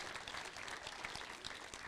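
Applause from an audience at a football club's season presentation event, a dense wash of clapping that sounds faint and distant, continuous for the short stretch.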